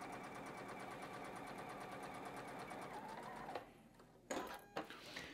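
A sewing machine runs a steady, close, even stitching whir while sewing quarter-inch seams on directional-print quilt patchwork, then stops near the end and leaves a few short clicks and handling knocks.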